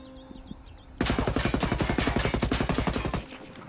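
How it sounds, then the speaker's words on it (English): Automatic fire from an L85 assault rifle in the Ghost Recon video game: a sustained burst of rapid, evenly spaced loud shots lasting a little over two seconds after a quiet start, then stopping abruptly. "Let's go ahead and give him a test run. The L85 first."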